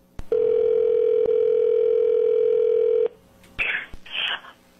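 Telephone sounds play from a video: a loud, steady electronic tone holds for about three seconds, then two short, bright bursts follow after a brief gap.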